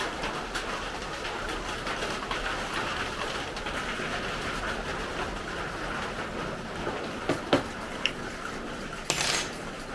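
Rain falls in a steady, soft hiss, with a few sharp clinks and taps near the end and no voices.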